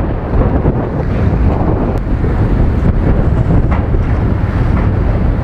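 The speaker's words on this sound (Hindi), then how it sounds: "ये पानी चल रहा है ना," Sea water flows beneath the Pamban rail bridge with a loud, constant surf-like rush, heavily buffeted by wind noise on the microphone.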